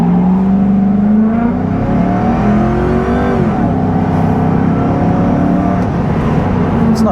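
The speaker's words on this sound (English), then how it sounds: "Let's just mat it and see how this thing launches." A car fitted with new control arms launches at full throttle, its engine note climbing loud and close, with a gear change partway through before the revs build again under steady road noise.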